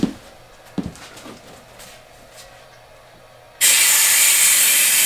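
An air compressor's tank drain is opened on a restored unit, letting out a sudden loud, steady blast of pressurized air that hisses on to the end after a few seconds of near quiet with small knocks.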